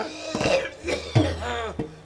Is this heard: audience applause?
no